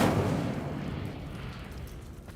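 Incendio fire spell cast in Hogwarts Legacy, a low rumbling burst of flame that starts strongest and slowly dies away over a couple of seconds, fairly quiet and with no voices.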